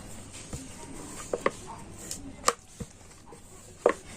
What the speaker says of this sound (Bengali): এবার আমি এটা বেলে নেব